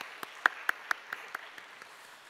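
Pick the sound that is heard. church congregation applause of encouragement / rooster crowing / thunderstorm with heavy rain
church congregation applause of encouragement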